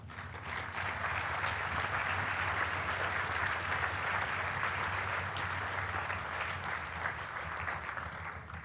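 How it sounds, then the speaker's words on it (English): Sustained applause from a large crowd, steady and dense for several seconds with no breaks, fairly distant and even in loudness. "and I'd like you to give them a round of applause."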